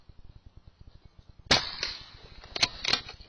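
A gun test-fired outdoors at night, with chronograph readings taken: one sharp, loud crack at about the midpoint, followed by several fainter clicks and metallic ticks. Faint rhythmic ticking runs through the quieter opening.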